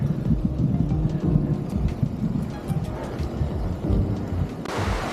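Rain falling during a rainy mountain bike ride through a wooded park, a constant hiss mixed with heavy low wind rumble buffeting the microphone, with a sharper gust near the end and no talking.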